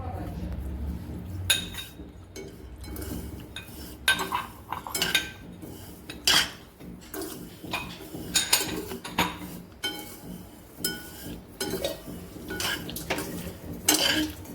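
A spoon stirs roasted vermicelli in ghee with cardamom, cashews and almonds inside a metal pan, giving repeated scraping clinks and clatters in an irregular rhythm, close by and moderately loud, with a faint soft sizzle underneath.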